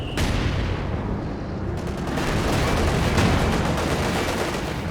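Tank cannon shots and artillery fire from the Company of Heroes 2 strategy game, a 3v3 battle on La Gleize, boom repeatedly in dense overlapping blasts with rumbling explosions throughout, loud and continuous.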